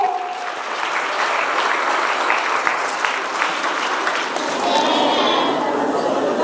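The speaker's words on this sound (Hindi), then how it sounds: "तालियों की गड़गड़ाहट रुकनी नहीं चाहिए।" Sustained, thunderous clapping fills the courtyard of Arya Kanya Gurukul school during its Children's Day celebration, a dense, unbroken wall of applause from a large crowd that holds steady and grows a little louder toward the end.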